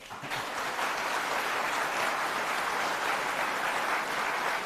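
Sustained audience applause at a leadership talk, steady and dense throughout with no voices over it.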